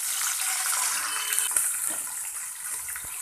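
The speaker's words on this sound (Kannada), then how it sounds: "2 ಕಪ್ ನೀರು ಹಾಕ್ತಿದ್ದೀನಿ." Two cups of water poured into a hot pan while making pineapple kesari bath, a steady splashing gush with a few small clinks, close and alone without talk.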